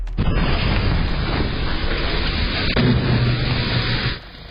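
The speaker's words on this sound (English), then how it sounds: "firefighters were battling a truck fire when one of its gas tanks exploded." A truck's gas tank explodes during a truck fire: a huge roaring blast that rumbles on as a sustained, broadband explosion, loud and close, then cuts off abruptly.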